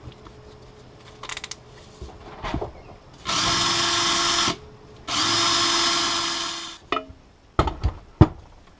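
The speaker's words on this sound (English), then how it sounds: "I'm actually going to do the last bit with a drill bit. Just drill a few holes in it." A power drill bores holes through an outboard motor's steering bracket, two long whining bursts with a spin-up and stop, framed by scattered metallic clicks and knocks of handling.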